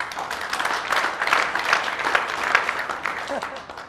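Audience applause filling the room, a dense, even patter of many hands clapping at close-to-moderate distance, steady for the whole stretch without talk over it.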